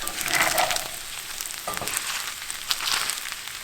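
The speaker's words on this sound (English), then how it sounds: "Once you add that sesame seed oil, give that a good little stir." Korean-style pork sizzles steadily in a hot pan with sesame seed oil as it is stirred, a soft continuous crackle with occasional scraping clicks from the utensil, heard alone and fairly close.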